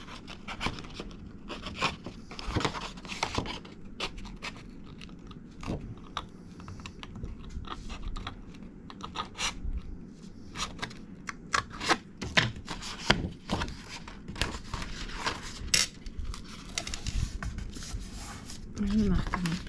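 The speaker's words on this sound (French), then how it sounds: "Je marque mes plis." Paper or card being creased into folds for a handmade gift box makes dense, close rubbing, scraping and tapping noises throughout, steady and fairly loud, with no talking.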